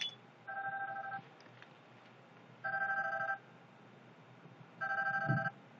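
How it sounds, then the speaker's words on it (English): A phone rings indoors in three evenly spaced electronic bursts of trilling tone, separated by short pauses. The ring stands alone at moderate volume. "my phone is ringing right when I'm doing a video."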